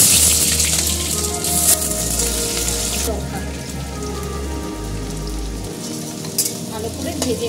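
Onions frying in hot mustard oil with white cumin and bay leaf in a wok for Bengali ghugni, a dense steady sizzle and crackle like rain on a surface, close and continuous with no talk.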